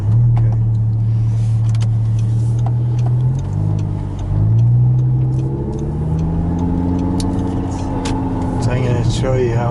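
Audi R8 sports car engine accelerating hard from inside the cabin, a steady low drone that climbs in pitch through gear changes, with people talking over it.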